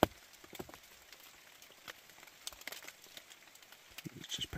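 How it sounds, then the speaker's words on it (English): Rain falls steadily outdoors on a horse-riding trail, a faint, even patter with scattered soft drops and no voices. "still raining"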